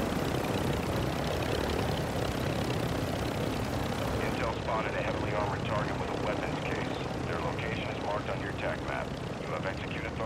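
Military helicopter in the Call of Duty DMZ video game, a constant loud rotor and engine roar filling the whole stretch, with players talking over it.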